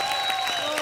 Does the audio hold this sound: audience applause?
yes